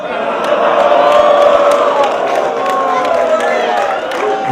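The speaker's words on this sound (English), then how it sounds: "crowd loves it." A crowd at a rap battle roars with cheers and shouts, mixed with clapping and scattered whoops, loud and sustained throughout with voices rising over the noise.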